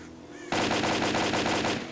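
Automatic gunfire in the video game STALKER: Call of Pripyat kicks in abruptly after a brief quiet moment, then keeps going as a loud, dense, rapid rattle of shots to the end.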